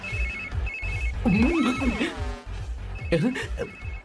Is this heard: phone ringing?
yes